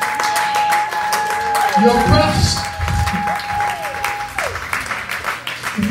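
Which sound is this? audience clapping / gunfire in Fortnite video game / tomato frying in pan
audience clapping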